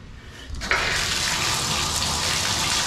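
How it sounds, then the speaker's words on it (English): Water turns on and gushes steadily from a shower tap with a newly replaced cartridge, a loud continuous rushing stream close by. "I'm gonna turn the water on."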